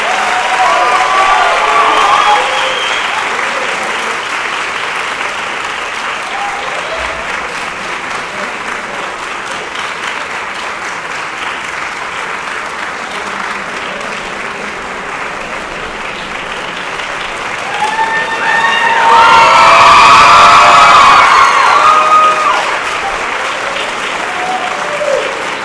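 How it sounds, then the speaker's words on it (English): An audience applauds a music performance, sustained and fairly close, swelling louder near the end with a few cheers before settling again. "join me in giving Mr. Todd another round of applause"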